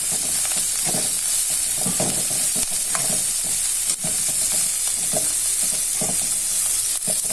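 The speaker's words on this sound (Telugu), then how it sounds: "వేసిన తర్వాత మనం కొంచెం సేపు దాన్ని బాగా వేగనివ్వాలి." Drumstick leaves frying in a pan give off a continuous loud sizzle with steady hiss, punctuated by repeated scraping and stirring knocks at an irregular rhythm, close up and with no voices.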